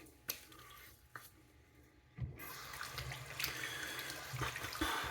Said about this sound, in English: Rinse off really quick.